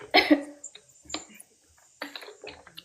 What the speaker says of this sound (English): I'm gonna cough 1 sec.